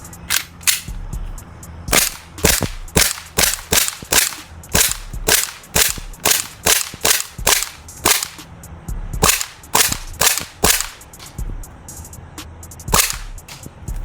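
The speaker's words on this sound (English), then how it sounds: "So we're just gonna continue shooting the shots until I notice my first problem." Airsoft Glock 18C gas pistol firing a long run of sharp, loud shots in irregular bursts and singles, close to the mic, with gas pressure gradually dropping over the course of the string.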